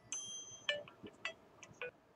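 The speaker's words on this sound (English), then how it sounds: "Well, apparently I have a phone call." A phone rings with an incoming call in a quiet room, several short bright electronic ding-like tones repeating at irregular intervals, faint and moderately close, with no talking.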